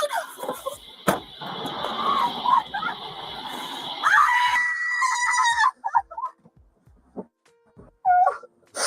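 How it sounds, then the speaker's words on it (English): A woman screams during a tense confrontation around a car, a long, harsh, high-pitched wail lasting several seconds. Shorter cries and raised voices follow. "She was screaming."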